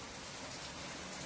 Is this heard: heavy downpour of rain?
yes